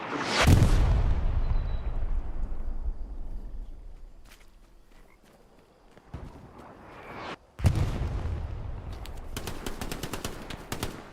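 Gunfire in the Hell Let Loose video game comes as a big close blast with a long decaying rumble, then quieter distant shots and a second loud burst followed by rapid cracks of automatic fire.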